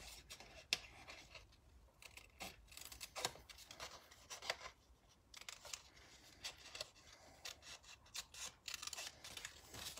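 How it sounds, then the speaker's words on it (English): Scissors cut out a piece of stamped paper in a quiet crafting setting, making a steady run of faint, crisp snips and rustles that come in irregular bursts. No one speaks. "I'm just going to cut it out so the pink can be my base."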